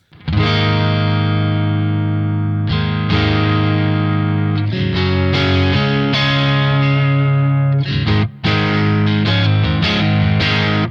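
A clean electric guitar played straight into a stereo rig with Kraken and Twin Sister pedals rings out loud and full, with sustained strummed chords, a brief gap, then more chords, played alone with no talking.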